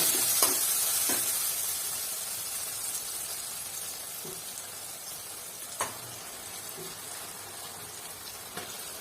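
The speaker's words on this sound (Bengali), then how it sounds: "ফ্লেমটা বাড়িয়ে দিয়ে এবার মাংসটা কষিয়ে কষিয়ে নিতে হবে যতক্ষণ না মাংসটা ব্রাউন কালার আসছে" Chicken pieces frying and being stirred in oil in a pan over raised heat, a steady soft sizzle with occasional sharp clicks and scrapes of a spoon against the pan, no talking.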